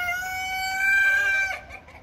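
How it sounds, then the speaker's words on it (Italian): Large rooster at a farmhouse near the Ticino river, heard up close giving a loud, drawn-out crow that ends in a short clucking fall. "E quello è un gran gallo."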